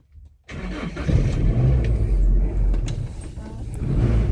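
Engine of a 2002 Toyota Kijang starts after a short silence and settles into a loud, smooth, low idle that continues steadily close by.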